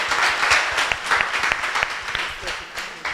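A crowd applauds at a youth empowerment town hall in St. Catherine, a brisk burst of clapping with distinct individual claps, close and lively, gradually easing toward the end.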